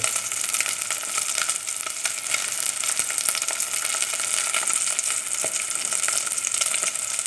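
Food frying in a pan after oil is added, a loud, dense, continuous sizzle held close and steady throughout with no talk.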